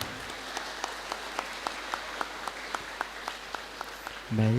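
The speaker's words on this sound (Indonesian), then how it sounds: "Kita beri tepuk tangan sekali lagi." Audience applause at a Halalbihalal family gathering, a light, fairly sparse wash of clapping with a few distinct, evenly spaced claps, ending as a voice comes in over a microphone.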